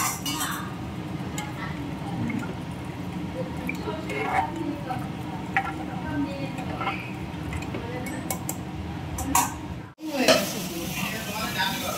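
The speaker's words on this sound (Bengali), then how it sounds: "তড়কা ডালটা দিয়ে দিলাম। তারপর নাড়াচাড়া করব।" Tadka dal being stirred in a cooking pan, a steady close sizzle with wet scraping and stirring sounds and a brief clank near the end, under occasional talk.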